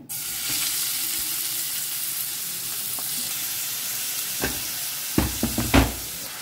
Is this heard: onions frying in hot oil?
yes